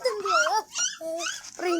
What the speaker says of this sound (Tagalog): Aso yan